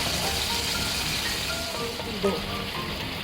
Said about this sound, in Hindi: चलिए, हमारे ये पेटी फ्राई हो रहे हैं।